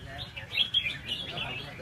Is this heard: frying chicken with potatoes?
no